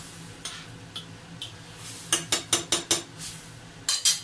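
Crushed canned tomatoes being mixed in a pot, with a few scattered spoon taps and then a quick run of sharp scraping clinks against the metal, ending with two more knocks.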